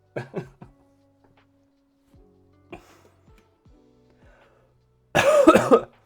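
A few short coughs near the start, then quiet, and a louder burst of throat clearing and coughing at the end.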